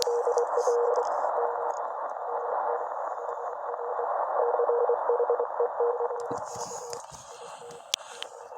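Steady radio hiss and static with a faint keyed Morse code (CW) tone that fades in and out from propagation distortion and multipath, with brief crackling bursts near the end.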